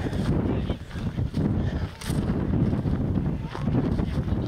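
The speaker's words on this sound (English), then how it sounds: "I know it's windy for y'all." Wind gusts buffet the microphone in uneven low rumbling bursts, with a faint voice underneath.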